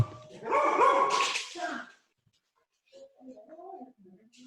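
Dogs bark excitedly and pant as they greet a UPS delivery driver, with a burst of loud, close barking followed by a pause and then softer whining, yipping sounds.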